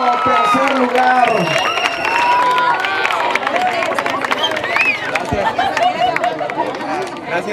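A crowd at a color run awards ceremony claps and cheers for a third-place finisher, lively outdoor applause mixed with chatter, whistles and voices close by.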